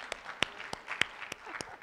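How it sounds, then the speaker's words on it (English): Sparse, scattered claps ring out from an audience at a teachers conference, about six distinct separate handclaps over a quiet room, fairly faint and irregular rather than full applause. "Please give her a round of applause."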